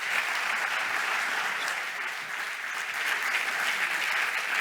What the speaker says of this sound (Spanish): Un fuerte aplauso para los tres